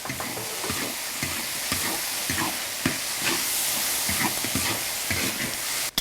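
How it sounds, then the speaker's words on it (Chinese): Rabbit meat stir-frying in a wok with chili bean paste, hotpot base, ginger and garlic gives a steady loud sizzle, broken by repeated spatula scrapes and stirring strokes. "再把兔子肉倒进去，捞一下。"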